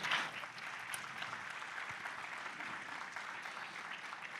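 A church congregation applauding, a soft, distant, continuous wash of clapping that stays even and fairly faint for a few seconds.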